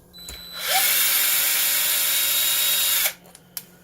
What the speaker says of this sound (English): They're kind of long, so a drill makes it a lot easier to take it out.